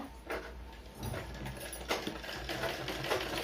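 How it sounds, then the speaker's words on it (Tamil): A sewing machine runs steadily as it stitches a lining piece onto a blouse piece, a quiet continuous whir with faint rhythmic clatter, no voices. "ஒரு 1/4 இன்ச்சுக்கு தையல் போட்டுருங்க"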